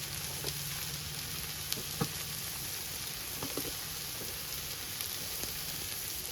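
Cumin powder frying in a pan, a soft, steady sizzle with a few faint clicks of a utensil, close but quiet, with no talking.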